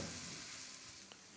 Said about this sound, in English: Add 1 tablespoon of garlic ginger paste. Cook until the raw smell of the garlic ginger paste goes away.